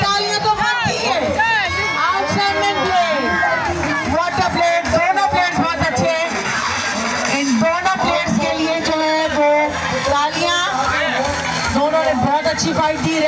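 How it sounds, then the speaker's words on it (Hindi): A crowd at an MMA fight cheers and applauds a champion, a loud, dense roar of voices and clapping that holds steady from start to finish. "चैंपियन चैंपियन के लिए तालियां तो बनती है।"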